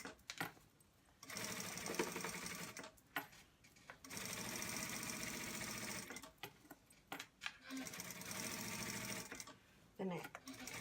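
A sewing machine stitches around the neckline of a boy's shirt in steady buzzing runs, stopping and starting several times with short pauses between bursts.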